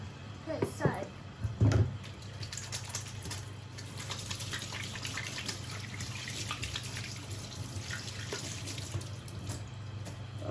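A faucet runs steadily into a sink while hands and salmon are washed, a soft continuous splashing stream with a few brief knocks near the start and a voice speaking over it.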